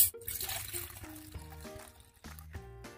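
Two cups of water pour steadily into a cooking pot, a continuous splashing trickle that shifts in pitch as the vessel fills, close and clear with no talk.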